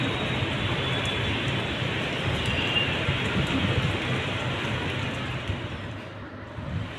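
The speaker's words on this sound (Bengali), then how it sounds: "প্রচুর গুড়ি গুড়ি বৃষ্টি পড়তেছে ঢাকা শহরে।" Fine drizzle falls over a city street in Dhaka, a soft, even hiss of rain with faint traffic noise blended in and no voices.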